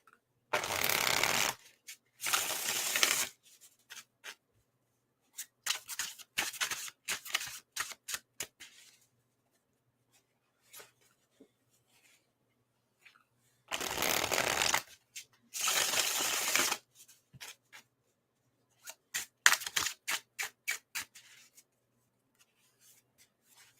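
Tarot cards shuffled by hand, two loud riffle bursts followed by scattered taps, rustles and card handling, repeated twice, close and alone without talk.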